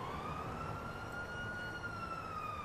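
A fire engine siren wails steadily in Grand Theft Auto V, one sustained rising-and-holding tone with bright harmonics over a broad rumble of street noise, fairly distant and continuous throughout.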